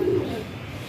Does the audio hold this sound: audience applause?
no